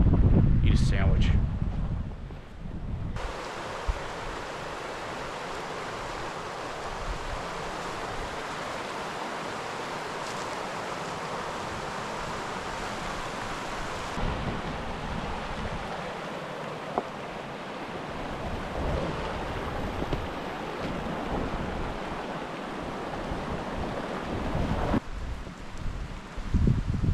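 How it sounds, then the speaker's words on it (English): A river runs beside a mountain trail in Colorado, a steady broadband rush of flowing water mixed with gusting wind buffeting the microphone, loud and constant throughout. "I really like this spot here by the river"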